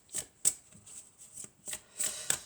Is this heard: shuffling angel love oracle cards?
yes